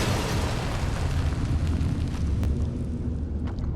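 Planted explosives detonate in the video game Poppy Playtime, producing a loud, sustained roaring rumble that carries on steadily without a break.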